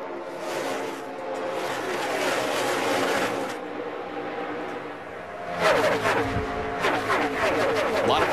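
NASCAR Camping World Truck Series trucks racing at Michigan, a loud roar of several engines passing close with rising and falling revs, one pack fading before another surges by.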